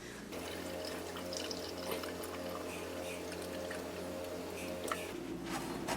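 Milk poured steadily into a container while cooking a meal, a soft continuous liquid rush lasting several seconds at low volume, ending with a slight change near the finish.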